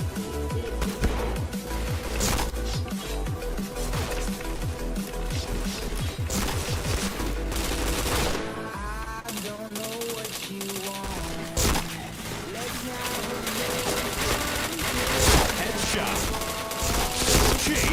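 Dense gunfire from the shooter game Point Blank, with rapid bursts and crashing impacts running continuously under loud game music and effects.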